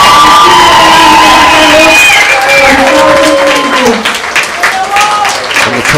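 Crowd applause and cheering with whoops at the 2022 Toyota National Championships U-17 Cup soccer awards, loud and continuous, with a public-address voice speaking over it and shouted calls rising through the noise.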